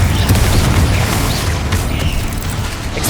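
The Confringo fire-blast spell in Hogwarts Legacy lands as a loud, close, rumbling boom that sustains with a roaring, crackling wash and slowly fades over a few seconds, with no talking.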